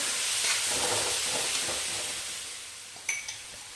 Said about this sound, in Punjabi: ਚੰਗੀ ਤਰ੍ਹਾਂ ਆਪਾਂ ਹੁਣ ਇਹਨੂੰ ਭੁੰਨਾਂਗੇ